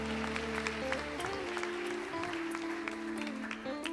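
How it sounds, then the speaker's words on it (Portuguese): A church congregation applauds in steady, continuous clapping, faint and somewhat distant, while organ or keyboard chords hold underneath. "Pode aplaudir o Senhor."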